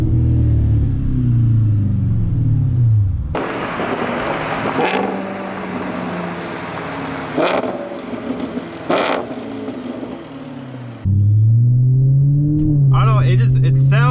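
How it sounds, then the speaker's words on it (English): Audi RS5 engine revving, with deep swelling revs at the start and end and a quieter rumbling stretch in between that carries a few sharp pops. "I love the exotic sound of this car"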